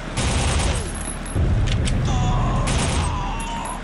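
Continuous gunfire and booming shots in the first-person shooter Soldier of Fortune: Platinum Edition, a loud, dense stretch of rapid reports that swells midway, with mechanical clatter mixed in.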